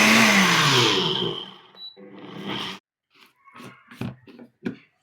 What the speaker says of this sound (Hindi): अब हम तिल को ग्राइंड कर लेते हैं।